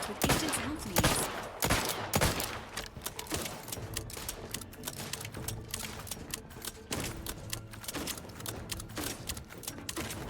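Rapid gunfire in The Outer Worlds 2, dense bursts of shots and rattling automatic fire that continue almost without a break, with sharper cracks standing out near the start.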